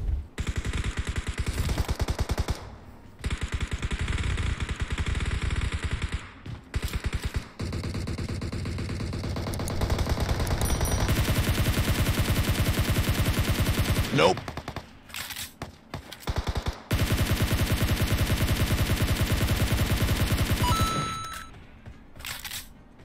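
PUBG Mobile gunfire including a Thompson submachine gun and a shotgun, loud sustained bursts of automatic fire with brief gaps and sharp single shots throughout.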